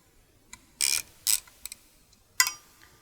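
A ratchet tightens a bolt on a fender eliminator for a 2021 Kawasaki Ninja 1000SX. Several short, close bursts of sharp clicking are separated by quiet gaps.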